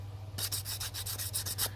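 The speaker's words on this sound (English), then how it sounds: "since that's such a thin strip of material right there, it doesn't need much sanding" Short strokes of hand sanding on a thin bevel strip, with about ten rapid, evenly spaced scratchy rubs close up against a steady low hum.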